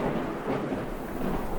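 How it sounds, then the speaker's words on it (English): Thunder rumbles continuously through a hurricane storm, a dense low roar mixed with the hiss of rain, fairly loud with no voices. "I have never seen a storm like this."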